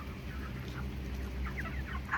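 Chickens twenty-seven days old on a village poultry farm, a low continuous chorus of soft clucking and chirping from many birds close by, with no talk.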